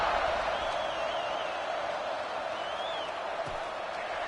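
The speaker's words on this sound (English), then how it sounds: "this crowd now ready to get behind them" A stadium crowd roars and cheers in the Madden 26 American football video game, a steady broad wash of massed voices at moderate level, with a few whistles rising above it.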